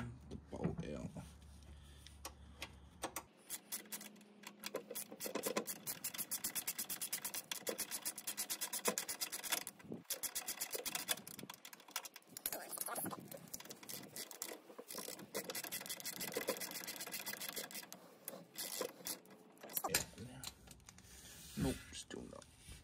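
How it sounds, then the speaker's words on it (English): A bolt is spun out by hand from the rear suspension of a VT-VZ Commodore, giving a quiet, continuous metallic rasping and ratcheting scrape that runs for about twenty seconds with faint thread grinding. "do it by hand now, and then just might have to spin the bolt out"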